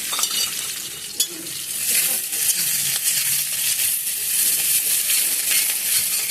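Chopped onion, one large onion, frying in a pan, a steady close sizzle with stirring scrapes and a sharp metallic clink near the start, no talking.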